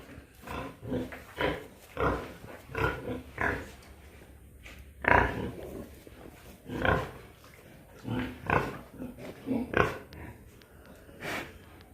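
A large pig at a fishery farm grunts and snorts in repeated short bursts, close and fairly loud, with brief pauses between the grunts and no voices.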